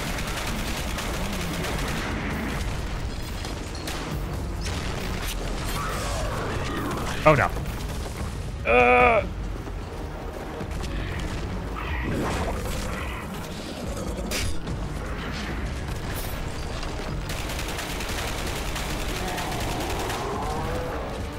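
Gunfire in the video game Dark Sector: scattered shots and mechanical bursts under steady game noise, with one sharp burst standing out midway, while a voice briefly speaks.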